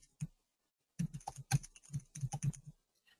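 Rapid bursts of keystrokes on a computer keyboard while a mobile coupon is being built, clicking in quick uneven clusters with a short pause near the start, close and fairly clear with no one talking.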